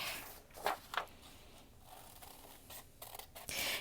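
Scissors cut a heart shape out of paper, soft close snips and rustling paper at a low level, with a few louder crisp cuts near the start and end.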